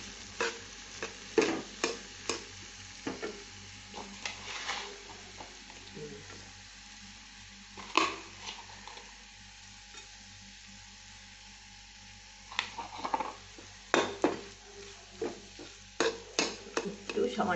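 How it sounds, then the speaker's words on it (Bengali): Garlic and onion fry in oil in a kadai over low heat, with a faint steady sizzle. A spatula scrapes and taps repeatedly against the pan in irregular bursts, close and clear. "আর এখানে আমি কড়াইতে দিয়ে দিয়েছি একটু রসুন আর একটু পেঁয়াজ তেলে দিয়ে একটু কম আঁচে নাড়াচাড়া করে"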